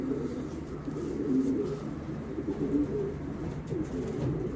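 Racing pigeons coo inside a loft during freezing weather, with low, soft, repeated coos rolling continuously over a steady background murmur.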